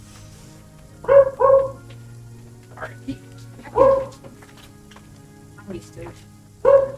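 A dog barking in short bursts, a handful of sharp yips and barks close by, spaced a few seconds apart, with a person speaking briefly between them.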